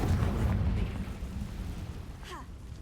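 A Confringo explosive spell blast in the Hogwarts Legacy video game, a loud low rumbling burst that fades over a couple of seconds, with a brief whooshing streak near the end.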